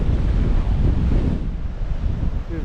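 Strong storm wind roars at a breakwater on the coast at Xghajra, Malta, buffeting the microphone in a loud, continuous rush with surf churning beneath it.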